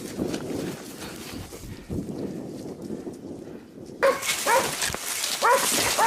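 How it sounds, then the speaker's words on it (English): Hunting dogs bark rapidly and excitedly during a wild boar hunt outdoors in wind, their yips and barks growing louder and denser in the last seconds. "With the effective cooperation of the hunting dogs, the rapid barking signaled that the target had been surrounded"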